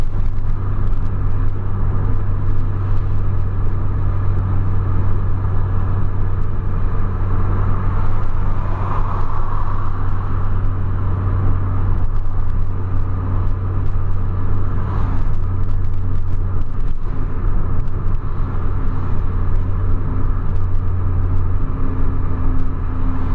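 Steady engine drone and road rumble from cars racing at over 200 km/h on a track, including a Polo Sedan, an Amarok V6 and a Camaro, a loud continuous roar with slight swells as engines rev.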